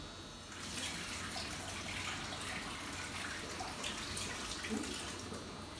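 A pot of boiled sweet potatoes being drained: a steady rushing pour of water splashing continuously into a sink for several seconds, close and fairly loud, with no talking.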